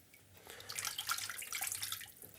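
Clean tap water runs over a resin-coated plastic photo print in a darkroom sink, a soft, faint splashing that swells and eases over a couple of seconds.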